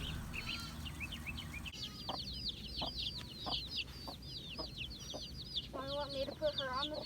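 Chickens on a property with chicks, clucking and chirping steadily at moderate distance over a background hiss, with a few louder squawking calls near the end.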